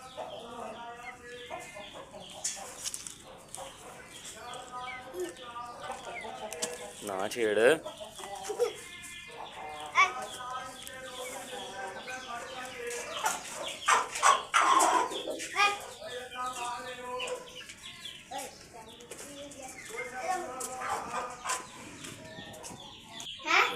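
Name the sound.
chickens clucking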